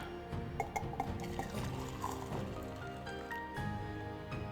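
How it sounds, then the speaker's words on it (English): Boiling water pours from a kettle into a tea cup fitted with a strainer, a steady close liquid trickle with light clinks of porcelain. "And I have some boiling water here that I'm just going to add."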